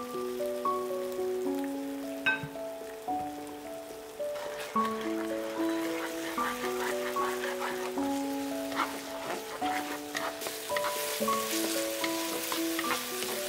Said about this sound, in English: Stir fry for a few minutes, allowing the aromatics and flavors to infuse into